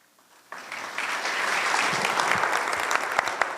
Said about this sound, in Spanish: pido un fuerte aplauso para nuestros panelistas